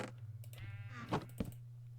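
A sheep in the Minecraft video game gives one clear, wavering bleat, close and prominent over a steady low background hum.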